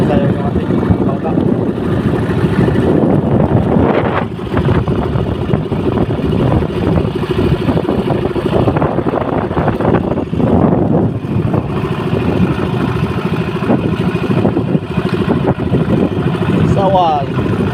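A fishing boat's engine drones steadily at sea over calm but large swells, a continuous low rumble running the whole time beneath occasional voices.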